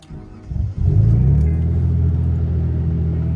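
A Mitsubishi GTO VR4 sports car engine cranks briefly, catches with a loud roar, then settles into a steady, rumbling idle close by.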